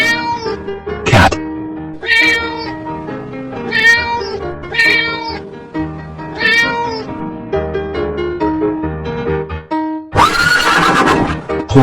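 A cartoon horse neighs in a long, loud whinnying call, following a string of shorter animal calls that sound like cat meows, with a brief noisy burst near the end.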